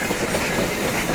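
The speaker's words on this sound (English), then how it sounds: "the locomotive backing up. Is that a diesel?" Locomotive backing up on railway tracks in the Santa Ana Valley, California, a loud, steady rumbling roll with a hissy rail texture and faint clacking, continuous and close, with no talk.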